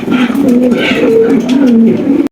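White show pigeons at a Bangladeshi pigeon sale coo repeatedly, low rolling calls rising and falling in an unbroken run, close and fairly loud.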